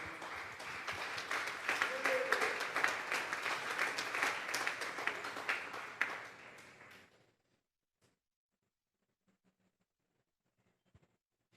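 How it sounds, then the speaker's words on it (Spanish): A church congregation at a Sunday service applauds steadily for about seven seconds, loud and dense, then stops abruptly into near silence with a few faint scattered sounds. "Dele una ofrenda de palmas a Dios."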